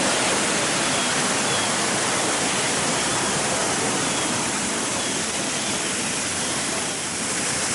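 Large water feature at a zoo elephant pool, a loud, dense, continuous rush of falling water that stays even and close for the whole stretch.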